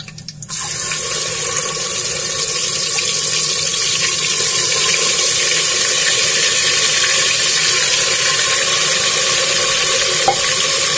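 Marinated chicken drops into a hot pressure cooker with whole spices for biryani, setting off a sudden loud sizzle that holds as a steady, hissing fry close up, with no talk.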